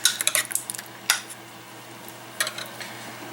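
A spoon stirs hot pepper mix through a cheesy Velveeta salsa, giving light clinks and scrapes against the bowl in short bursts, with a sharper clatter midway and more tapping near the end.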